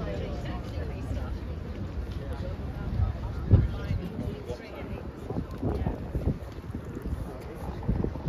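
Wind gusts across flat open ground at an outdoor antiques fair, rumbling steadily against the microphone while a person talks over it.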